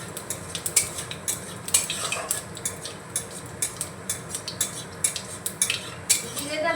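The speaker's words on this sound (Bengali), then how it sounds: "জিরেটাকে ভেজে নেব।" Whole cumin seeds frying in white oil in a wok, with a utensil repeatedly clinking and scraping against the pan in an uneven rhythm over a soft sizzle, close and fairly loud.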